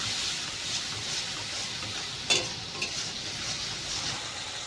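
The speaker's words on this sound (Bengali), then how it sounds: "এর ভিতরে দিয়ে দেব লঙ্কা গুঁড়ো, দিয়ে দেব ধনে গুঁড়ো, দিয়ে ভালো করে মশলাটাকে কষিয়ে নেব।" Ginger-garlic-tomato masala cooks with added chilli and coriander powder, a steady soft sizzle throughout with a single clear utensil clink and a fainter tap a moment later.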